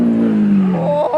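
A Lamborghini Aventador S passes close by, its loud engine note sliding downward as it goes, then rising into a higher-pitched rev at the end.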